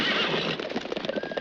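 Horses whinny loudly in a desert western scene, one long neigh trailing into rapid hoofbeats as the animals bolt, close and alone without talk.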